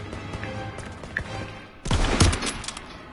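Gunfire in a WW2 video game: a burst of loud shots about halfway through, following a quieter stretch of low rumble and scattered distant pops.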